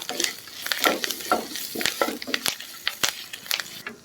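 Drumstick leaves with salt are stirred in a pan, producing a busy series of spatula scrapes and clatters over a light sizzle, close and fairly loud, with no talking.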